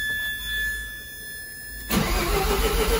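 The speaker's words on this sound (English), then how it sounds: "Flip the fuel pump on." An FD Mazda RX7 fuel pump switches on with an abrupt shift in tone, leaving a steady, close electrical and mechanical hum after a quieter whine.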